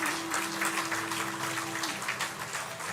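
Audience applause for a family after a Gujarati devotional satsang gathering, a steady wash of clapping from a crowd that holds for about three seconds, with a sustained tone and faint voices beneath it.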